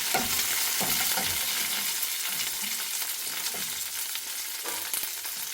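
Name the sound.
onions frying in a pan with curry leaves and chilli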